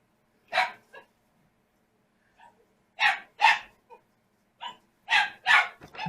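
A pet dog barks in short, sharp bursts indoors, a handful of yaps spaced apart with quiet gaps between them, close and clear.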